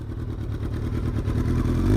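A Kawasaki ZX-12R motorcycle with a 1199cc inline four-cylinder engine rated at 190 horsepower runs with a steady, dense mechanical drone that swells gradually louder, as if revving up, with no talk over it.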